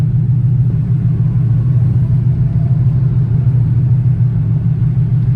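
A TVR S2 sports car engine drones steadily while driving, a loud, continuous low rumble with little change in pitch throughout, no voices.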